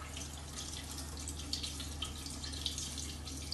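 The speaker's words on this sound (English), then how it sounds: "we're also going to run some cold water to get rid of the excess milk" Cold tap water runs into a colander of drained offal in a kitchen sink, a steady splashing rush with light irregular spatters, close and continuous.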